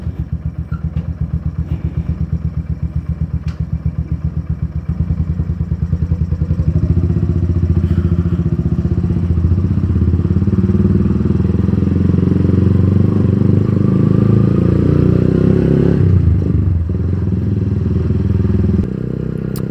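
A 2014 Yamaha Byson motorcycle customised as a scrambler runs steadily close by, a loud, throbbing mid-range engine idle that revs up partway through and holds a rougher, fuller drone before easing off near the end.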